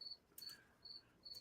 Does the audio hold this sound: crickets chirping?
yes